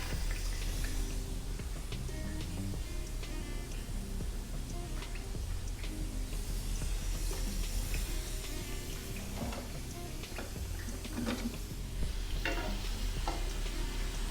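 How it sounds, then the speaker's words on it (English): Chopped onion frying in hot oil as it is stirred, giving a continuous crackling sizzle with scattered spatters and scrapes, close and steady throughout, with no voices. "And then I add my onion into the hot oil."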